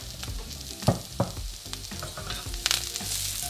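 Potatoes with rosemary and thyme sizzle in a hot pan, crackling loudly and close up. Sharp clatters from tossing come about a second apart, and no one speaks.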